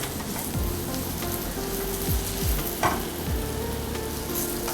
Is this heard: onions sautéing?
yes